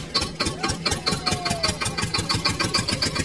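Steady, rhythmic mechanical whirring with a fast pulsing chug, like a small motor running, from a toy tractor being played with, close and continuous with no talk.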